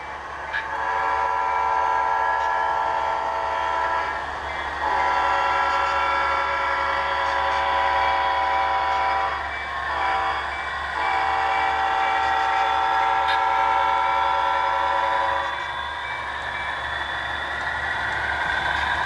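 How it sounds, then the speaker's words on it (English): Steady rolling rumble of an HO scale model train on a layout, with long sustained whistle-like tones that pause briefly a few times, continuous and fairly loud. "The train's now rolling through Salem, close to the end of the layout."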